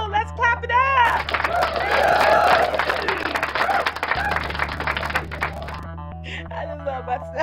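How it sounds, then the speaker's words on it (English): Studio audience clapping at the end of a talk show, a dense burst of applause lasting several seconds between short stretches of talk, fairly close and lively. "Let's clap it up."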